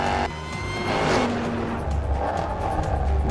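Project 8 car accelerating and braking hard: close engine roar rises and falls, with a tire and brake hiss as the car slows, no talking over it.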